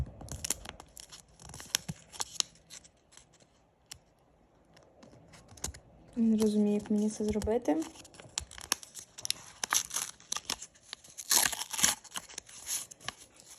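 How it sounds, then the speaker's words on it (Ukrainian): A paper surprise packet crinkles and rips in several short bursts, close by, while a person talks, with a louder tearing rush near the end. "відкриємо перший пакетик"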